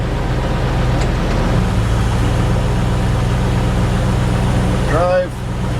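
A 1997 Land Rover Defender 90 engine idles in neutral with a steady low rumble, close and continuous, while a voice talks over it.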